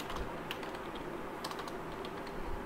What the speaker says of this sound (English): if I type h2 and if I type something here